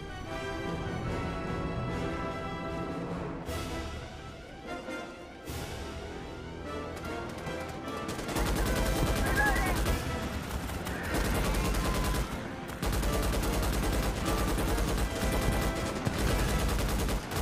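Rapid bursts of turret machine gun fire in the Starship Troopers: Extermination video game, loud sustained fusillades with brief pauses over game sound and music.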